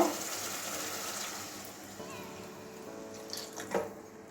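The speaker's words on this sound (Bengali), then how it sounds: "এবারে জল দিয়ে দেব, জলটা একটু ফুটিয়ে নেব" Water poured into a pan of cooked-down mustard and poppy seed masala for a pomfret fish curry, a steady close splashing stream that fades, followed by a few light clinks.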